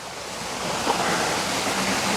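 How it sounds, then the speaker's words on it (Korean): Water flows steadily near a mountain hiking trail entrance in Makiki, a continuous rushing wash heard nearby with no other sounds over it. "물소리도 들리고 아주 좋네요."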